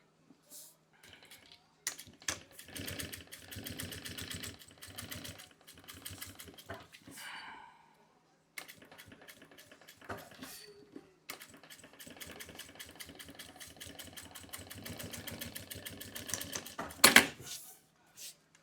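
A sewing machine stitches in rapid, steady bursts, stopping and starting a few times, close and fairly quiet, with a short pause partway through.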